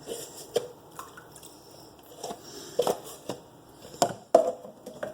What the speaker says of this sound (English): I'm going to scoop the pre-ferment into the water that I've measured out here already